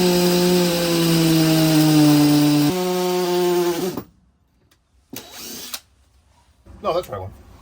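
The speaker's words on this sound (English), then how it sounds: "7/32 inch drill." A 7/32 inch bit in a power drill boring a hole for a D-ring install on a Grand Design Momentum 351M toy hauler, a loud steady whine for about four seconds that dips in pitch midway, then short bursts and clatter.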